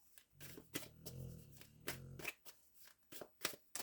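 Tarot cards being shuffled by hand, a quick series of close, crisp riffles and flicks alternating with softer sliding bursts, with no talking.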